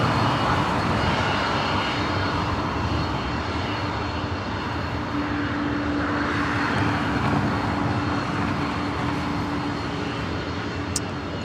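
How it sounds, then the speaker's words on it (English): A 33-year-old Delta Airlines Boeing 767-300ER operating flight 678 at LAX gives a strong, continuous jet engine roar with a steady tonal hum inside it, loud and close throughout, with no voices. "this is Delta Airlines flight 678. This is a 33-year-old 767-300ER delivered in July of 1990 to Delta Airlines"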